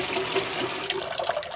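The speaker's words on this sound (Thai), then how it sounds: "เราก็จะล้างแป้งให้สะอาดนะคะ" Sago pearls are rinsed by hand in a bowl of water, giving a steady close swishing and sloshing with small splashes that runs the whole time, with no talking.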